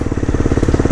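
Dirt bike engine pulsing steadily at close range while riding over slippery wet clay on a trip from Chumphon toward the Myanmar border, a continuous throbbing putter with rhythmic beats through the whole second.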